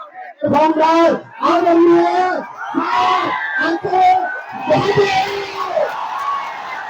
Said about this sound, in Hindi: आपकी भरपूर तालियों के बीच